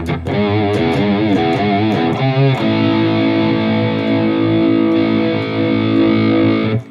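Electric guitar played through the Mooer GE 1000's high-gain distortion amp model, loud and saturated, with a few choppy picked chords at the start and then long sustained distorted notes ringing out alone.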